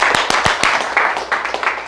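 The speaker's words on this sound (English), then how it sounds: "You can clap that up." An audience at a business talk claps briefly. The clapping is close and sparse, with a few sharp individual claps over a thin spread of scattered applause, lasting under two seconds.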